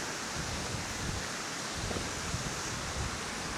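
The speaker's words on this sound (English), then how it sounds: "Bloody wind." Wind blowing outdoors in Marsden, West Yorkshire, a broad rumbling gusty roar buffeting the microphone, steady and close with low thumping surges, no voices.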